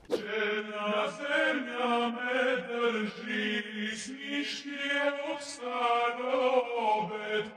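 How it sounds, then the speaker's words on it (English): A vocal sample pitched down 8 semitones and slowed to 120 BPM sings a sustained melodic line, smooth and continuous with a thick, lowered tone. "I pitched it down 8 semitones."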